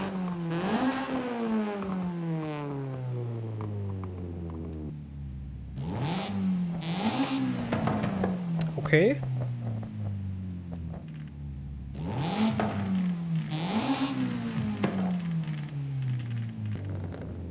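Stock-exhaust Honda car engine in Forza Horizon 5, revving repeatedly in three rising bursts with raspy harmonics climbing and falling between shifts, close and loud, a brief spoken word once.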